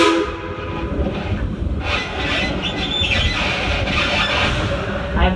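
A steam train's whistle sounds on a heritage railway near Smith Creek Station, loud and close over the continuous rumble and clatter of railroad cars rolling along the track.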